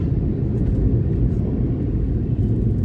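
Steady low rumble of road traffic at a busy crossing near Tin Factory in Bangalore, engines droning continuously close by with no talk.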